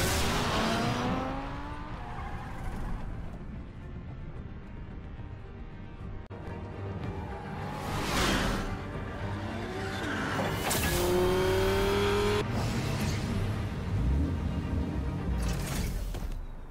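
Car engine revving and tires squealing in a Batman video game, with rising and falling engine tones and skids over a steady loud mix of game noise and music.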